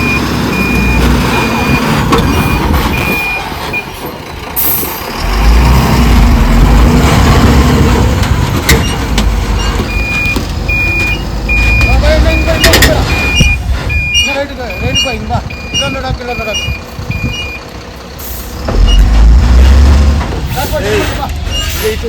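A truck backs up to unload soil at a house construction site, its reversing beeper pulsing steadily under a rumbling engine and air-brake hiss, while people talk over it.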